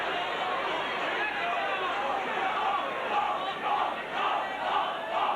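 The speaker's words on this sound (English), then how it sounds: "Off, shout the crowd." Rugby league crowd at a Leeds v Warrington match shouting and roaring together, a dense wash of massed voices rising in surges toward the end, heard from within the stadium.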